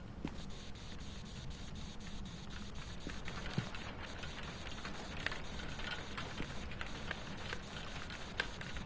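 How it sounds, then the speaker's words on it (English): Steady rain patters against a window in Phasmophobia, a soft continuous hiss of drops with occasional louder taps, heard alone at low volume. "The rain sounds are so chill."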